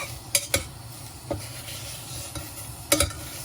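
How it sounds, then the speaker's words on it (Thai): Frog curry with Vietnamese coriander is stirred in a pan. A utensil scrapes and clacks against the pan in several sharp strokes over a constant sizzle of frying. "ต้องคนให้มันสุกค่ะ"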